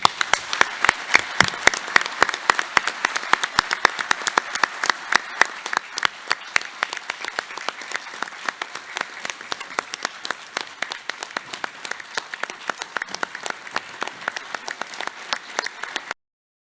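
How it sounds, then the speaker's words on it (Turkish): An audience at a board and council members' gathering applauds for the chairman, a long stretch of crisp, sharp handclaps that starts strong, thins slightly midway and keeps a lively irregular patter to the end. "Ona bir alkış göndermenizi özellikle rica ediyorum."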